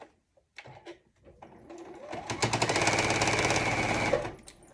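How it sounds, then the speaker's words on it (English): A sewing machine runs steadily for a couple of seconds, stitching fabric to close up a quilt binding, with a few soft handling clicks and rustles beforehand; no talking. "And I'm going to back stitch, over stitch, and done."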